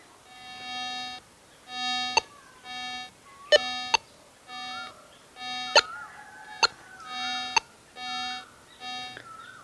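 An AKA Signum metal detector sounds over an Indian coin with a series of loud, evenly spaced electronic beeps, each a sustained buzzy tone, punctuated by sharp clicks, with no talk.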